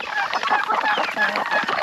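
Chickens cluck and squawk continuously at close range in a backyard farm flock, with a large rooster among the hens, the calls overlapping busily for the whole stretch.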